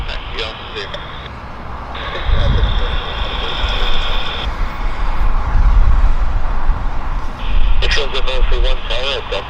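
An airliner takes off from Vancouver Airport, a broad, steady jet roar with a whining tone that swells and holds for the whole stretch while voices talk nearby.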